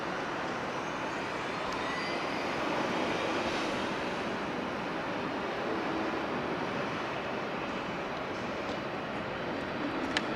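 An EVA Air passenger jet approaching LAX for landing, a steady broadband roar that holds loud and continuous throughout, with no talk over it.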